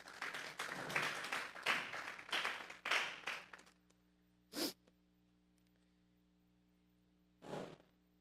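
A church congregation at a Sunday service claps in a burst of uneven applause lasting about four seconds, then falls quiet except for two short isolated claps or taps in a hushed room.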